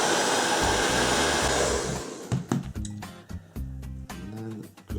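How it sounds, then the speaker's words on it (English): A hair dryer runs loud and close for about two seconds, its steady airflow roar dropping away into quieter handling clicks and faint low tones. "Take your hair dryer, warm it up."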